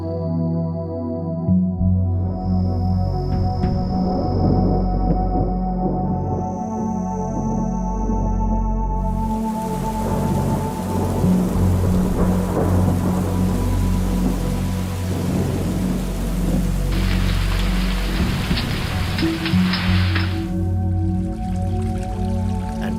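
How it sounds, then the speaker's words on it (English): A desert thunderstorm in Israel brings heavy rain with deep rolling thunder, loud and continuous, with low rumbles under a broad wash of falling water throughout. "But December brings the first welcoming rains."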